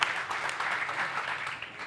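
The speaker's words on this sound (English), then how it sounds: "A round of applause." A panel conversation audience claps briefly after a guest is invited to join, steady moderate applause through the short moment.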